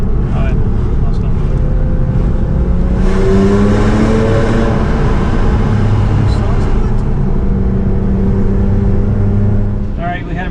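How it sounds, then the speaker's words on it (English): Porsche 911 fitted with a Shark Werks exhaust driving in traffic, a steady loud engine drone with rising revs around the middle, close up throughout with no talk. "listen to the real sound of the exhaust"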